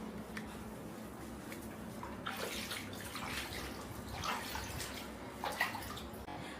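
Water poured and splashed over a shih tzu puppy during its bath, heard as soft sloshing and spattering in irregular bursts that swell and fade, close by and fairly quiet.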